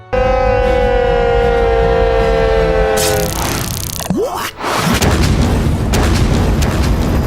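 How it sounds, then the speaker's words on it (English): A long falling whistle-like tone gives way to a sudden loud boom and crackling burst, followed by sustained roaring noise, like a cartoon explosion. "promptly detonates like a budget firework after taking soda with some mint"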